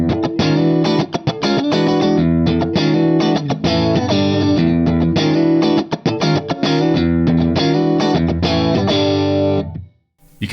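Electric guitar run through Axe-Fx III compressors with a light edge of distortion, loud chords and riffs played steadily for about ten seconds before cutting out near the end.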